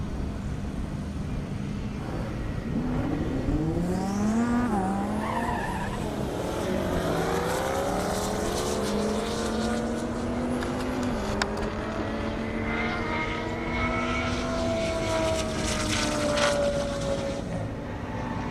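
A Lamborghini Huracan and a Synergy green Camaro launch side by side down an airport airstrip drag strip, their engines roaring loud and steady as the pitch climbs through the gears for the whole run.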